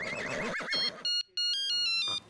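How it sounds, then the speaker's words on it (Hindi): A telephone rings in a Hindi comedy scene, a bright electronic ringtone sounding in several short bursts right after a line of dialogue. "फोन।"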